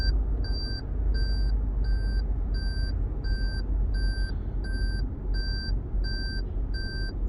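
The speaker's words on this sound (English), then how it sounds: "car's constantly beeping, because I'm carrying something in the trunk" A Lexus GS350 3.5 V6 sounds a warning for its open trunk, a high, regular electronic beep repeating roughly every half second over a steady rumble of engine and road noise inside the car.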